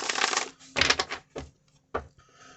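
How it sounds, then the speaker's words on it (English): A deck of tarot cards is shuffled by hand close up, with several crisp riffling bursts separated by short pauses. "So let me actually shuffle these."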